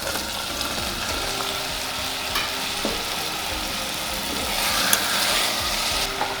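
Cut, washed potatoes drop into tomato frying in a little oil in a pressure cooker, producing a steady close sizzle with scattered clinks and stirring scrapes that grow louder toward the end; nobody speaks.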